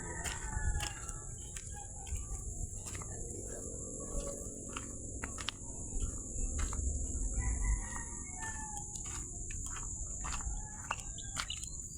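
A rooster crows over a steady high insect drone, with clucking fowl and rustling in the background.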